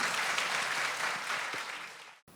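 An audience at a book concert gives dense, steady applause for a music duo after their performance, even and moderately loud before cutting off abruptly.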